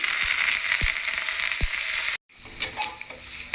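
Curry leaves hit hot oil with the tempering seeds for pachi pulusu, giving a loud, steady crackling sizzle with a few sharp pops, a brief silent break, then a lighter, spattering fry.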